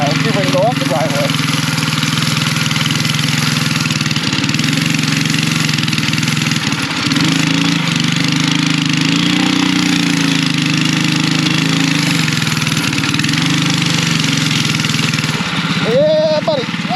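A mini chopper engine fitted with a VM22 carburetor and stainless exhaust drones loudly and steadily as it rides up a driveway, staying close throughout, with brief voices under the noise near the start and end.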